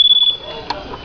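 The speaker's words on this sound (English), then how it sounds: "That's the alarm." A pool-area security alarm at a vacation rental emits a sharp high-pitched electronic beep that holds briefly, then fades as a voice speaks and a small clunk follows.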